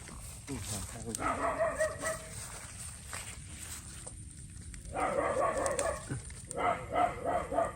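A dog barks in short bursts outdoors in the countryside, where people are gathering vegetables and hunting for bamboo shoots. Voices talk around and between the barks.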